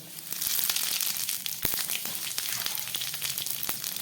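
Bay leaf and panch phoron spices sizzling in hot oil in a pan, a steady dense crackling hiss with scattered sharper pops throughout, close and moderately loud.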